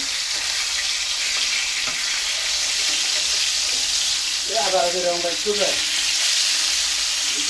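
Rohu fish pieces frying in hot oil, a steady broadband sizzle throughout, with a brief clatter of a utensil near the end as the pieces are lifted out.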